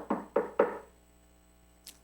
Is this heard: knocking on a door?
yes